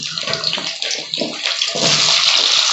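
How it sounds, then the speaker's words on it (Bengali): Young jackfruit pieces fry in hot oil with turmeric and salt, a loud, close sizzle and crackle that swells into a dense, continuous hiss. "একটু হলুদ আর একটু লবণ দিয়ে আমি এঁচোড়টা ভেজে নিচ্ছি"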